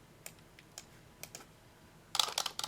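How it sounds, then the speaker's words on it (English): Keys on a computer keyboard tapped while writing in a Word document: sparse single clicks at first, then a quick burst of close, crisp keystrokes near the end, with no talking. "type in whatever."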